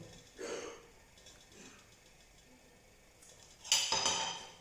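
Metal utensils clink and scrape against a saucepan while mixing olive oil and pepper into a hair oil, with a louder burst of clattering stirring near the end; close and fairly quiet otherwise.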